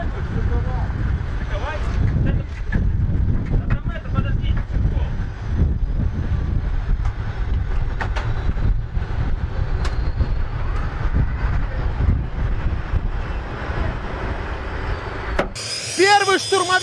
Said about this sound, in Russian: Штурмовик из состава звена сейчас выруливает на взлетно-посадочную полосу.